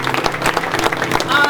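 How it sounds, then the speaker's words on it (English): Theater audience applauding an improv show, dense clapping and crowd noise filling the hall throughout, with a voice talking over it. "A big round of applause for our two guests."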